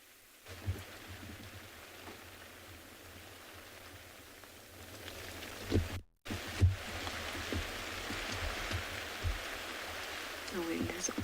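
Rain pattering steadily on a vehicle's rain roof and covers during a sunrise safari drive, a continuous hiss with scattered drips and thuds, a voice talking intermittently over it, and a brief dropout near the middle.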